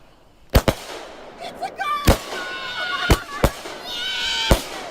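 Fireworks set off at a gender reveal party: several sharp, loud bangs spaced a second or so apart, with crackling and distant cheering voices between the blasts.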